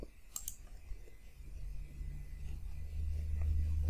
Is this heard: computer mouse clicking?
yes